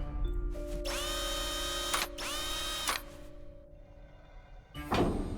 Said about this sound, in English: I'm gonna hazard a guess that we can just power tool these open